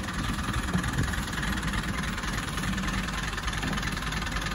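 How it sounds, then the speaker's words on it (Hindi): A tractor engine idling nearby, a steady low rumbling drone with even knocking pulses and no speech over it. "समझो जी ट्रैक्टर बाहर कर लिया भाई ने"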